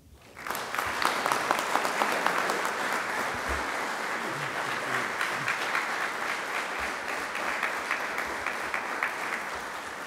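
An audience at the Tennessee Tech alumni awards ceremony breaks into sustained applause, a dense hall-filling clatter of many hands that swells quickly and holds steady for the full stretch without speech.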